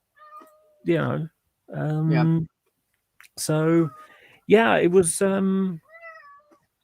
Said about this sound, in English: your cat's really vocal.